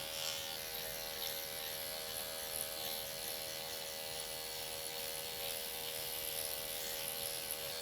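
An at-home microneedling machine buzzes steadily and faintly with an even, unbroken high-pitched drone throughout, heard alone.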